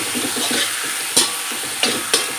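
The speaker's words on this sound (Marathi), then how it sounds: "पातीच्या कांद्याचा कांदा अर्धा कप हे छान मिक्स करून घ्यायचं आहे" Spring onions being stir-fried in a pan for Indo-Chinese vegetable Hakka noodles: a steady close sizzle broken by a few sharp scraping stirs, with no voices.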